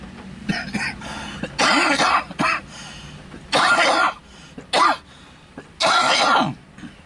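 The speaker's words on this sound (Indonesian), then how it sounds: "agak batuk sedikit" A person coughs repeatedly in several harsh bursts with brief pauses between them, close to the microphone.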